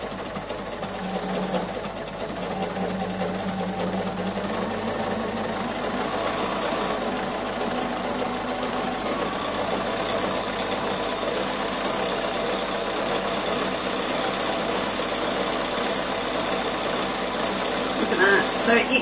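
An embroidery sewing machine stitches out a design with a steady, even mechanical whir that runs continuously at close range for the whole stretch.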